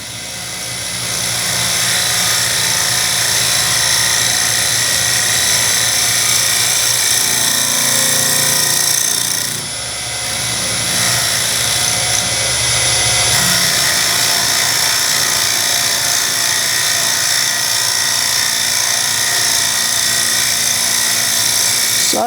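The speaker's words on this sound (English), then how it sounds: "We can utilize the Turnmaster in shear scraping mode in exactly the same way." A wood lathe spins continuously while a Robert Sorby Turnmaster tool, steadied by a Steady Pro roller support, shear scrapes the turning wood, giving a loud, close, sustained whirring hiss with a brief dip partway through.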